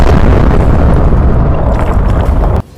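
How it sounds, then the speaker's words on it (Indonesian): A loud, dense roaring blast of explosions in an animated fight scene, heavy and sustained for over two seconds as cliffs and ground are destroyed, ending abruptly. "Ledakan bertubi-tubi yang membuat tebing serta tanah di area itu hancur."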